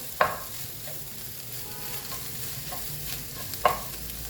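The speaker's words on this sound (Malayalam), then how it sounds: "ഉപ്പിട്ടിട്ട് ഒന്ന് ഇളക്കാം" Okra with about half a teaspoon of salt is stirred in a frying pan. A soft, low sizzle runs throughout, with two sharp spatula clicks against the pan at the start and near the end.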